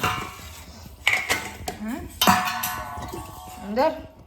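A small child bangs and clinks metal pots, dishes and a glass at home, sharp clattering hits scattered across a few seconds, close by, with an adult talking around them.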